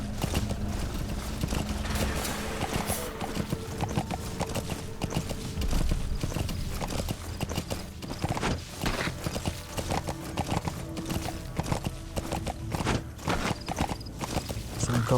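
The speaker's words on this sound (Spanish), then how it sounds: "Un caballo espía." Horse hooves clip-clop steadily in Metal Gear Solid V, with a neigh heard amid the continuous game sound over about fifteen seconds.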